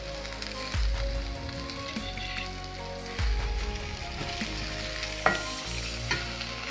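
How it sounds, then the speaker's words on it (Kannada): Cut vegetables fry in a little oil with a constant crackling sizzle, and a few heavier stirring thumps and scrapes sound close by, with no one speaking. "ಸ್ವಲ್ಪ ಎಣ್ಣೆ ಹಾಕಿ ಚೆನ್ನಾಗಿ ಫ್ರೈ ಮಾಡ್ಕೋಬೇಕು."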